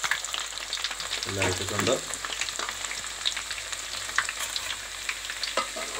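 Chopped ginger and other ingredients fry in oil for a homestyle mango pickle, a steady, close sizzle with stirring scrapes, briefly joined by a short spoken remark.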